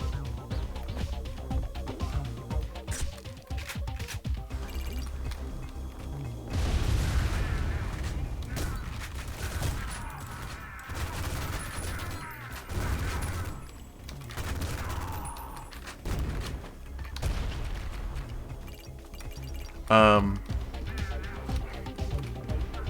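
Sustained video game gunfire, dense volleys and bursts of shots with heavy booms, rolling on and off over a loud, continuous battle din with a sharp blast near the end.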